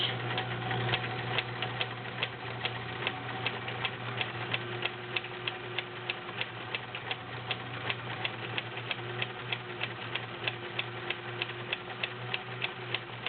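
A vintage Kenmore model 1703 cam sewing machine sews a stretch stitch in a steady, rapid mechanical clatter with a rhythmic ticking and an even motor hum throughout, close and unbroken.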